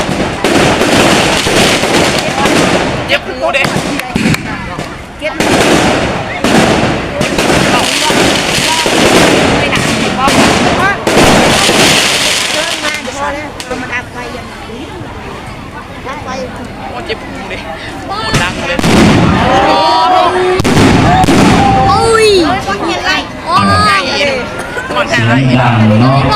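Fireworks and firecrackers burst loudly and repeatedly at a Lao cremation ceremony at Wat Phonsavan in Savannakhet province. The rapid crackling and booming goes on without a break over a murmuring crowd and nearby voices.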